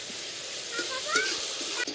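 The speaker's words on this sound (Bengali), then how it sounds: "হালকা করে একটু ভেজে নেব।" Taro stolons with slit green chillies, turmeric and salt lightly frying in oil, a steady close sizzle with soft stirring scrapes and a brief clack near the end.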